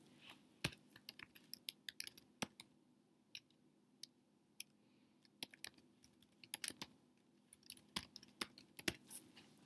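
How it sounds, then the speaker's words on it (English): Typing on a computer keyboard while entering slide text, with sharp irregular key clicks in quick bursts and short pauses, close and fairly quiet against a faint room hum. "I can go ahead and type"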